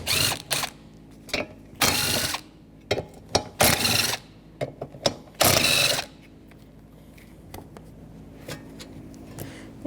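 A ratchet with a 13mm socket loosens the bolts holding a fan to the old fan clutch of a 1997-2004 Dodge Dakota, giving repeated bursts of quick clicking separated by short pauses, close and fairly loud, with no talking.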